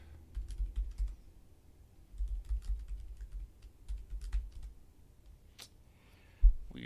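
Typing on a computer keyboard while working on code, several quiet bursts of soft key clicks in an uneven rhythm with short pauses, recorded close and faint with no talking.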